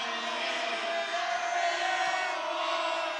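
A basketball crowd at a high school boys game reacts to an air ball with a sustained, loud roar of voices and jeers that carries steadily throughout.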